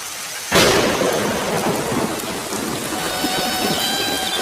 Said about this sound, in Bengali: বৃষ্টির ভাব দেখেছো? মনে তো হয় না যে এত সহজে থামবে।